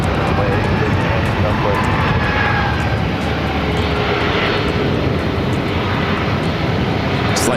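Airplane landing on runway 8 at Phoenix Sky Harbor airport, a continuous loud broadband engine roar holding steady throughout, with a voice talking over it.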